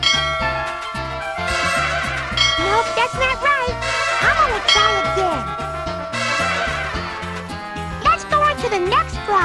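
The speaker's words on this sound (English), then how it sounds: "Ring the bell when you have the right number." Bell chimes ring out from the Elmo's Number Journey video game, layered over bright, busy game music and sound effects with a child-like voice talking throughout.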